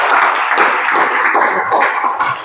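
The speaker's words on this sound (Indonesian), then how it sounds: "beri tepuk tangan dulu" Applause from a small gathered group after a Quran recitation, a continuous washy patter of clapping hands, fairly loud and close, steady before thinning near the end.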